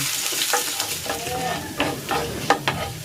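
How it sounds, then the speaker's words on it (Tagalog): Ginger frying in cooking oil in a pan, a steady close sizzle broken by a few scraping stirs of a utensil, with no speech. "Ilalagay ko naman dito itong luya. Lutuin natin ito dito hanggang sa mag-golden brown."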